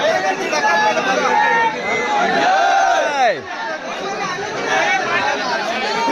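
A large crowd of about ten thousand at a temple festival, likely on a Sunday, fills the air with constant babble and shouting, loud and close, with voices calling out over the din.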